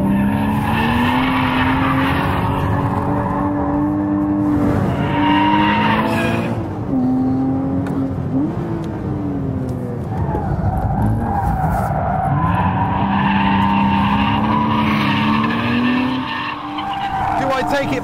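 Tyres squeal and skid loudly and continuously as a car engine revs nearby, the pitch sliding up and down through repeated slides.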